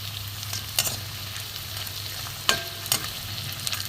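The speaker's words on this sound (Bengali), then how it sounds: "বন্ধুরা দেখুন মচমচে করে একদম ভেজে নেব" Cauliflower stem finger pakoras deep frying in oil, a steady crackling sizzle over a low hum, punctuated by a few sharp scrapes and clicks from a stirring spoon, no talking.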